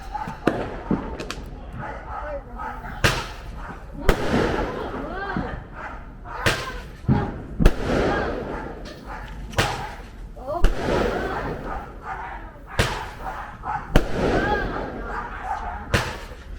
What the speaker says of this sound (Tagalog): So, ayan yung kapitbahay namin na inaasahan namin may malalaking fireworks.